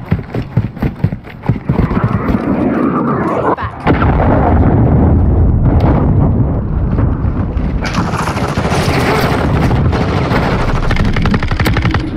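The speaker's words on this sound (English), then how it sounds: "Hostile cruise missile launched" Heavy gunfire and blasts in Call of Duty: Modern Warfare II multiplayer, a loud sustained barrage of bursts with a big explosive surge partway through, dense and close throughout.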